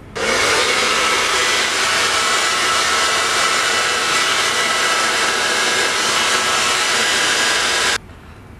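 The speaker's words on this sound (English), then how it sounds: "I'm gonna pull out as I blow dry" A hair dryer blows steadily on hair being styled with a round brush, a loud, close, continuous roar that holds for about eight seconds before cutting off abruptly.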